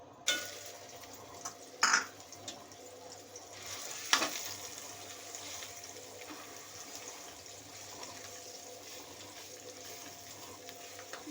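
Grated bottle gourd cooks in a pan for halwa, giving a low steady sizzle with a few sharp scraping clatters near the start, then a quiet even hiss.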